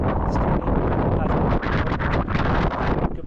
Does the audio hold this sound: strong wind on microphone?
yes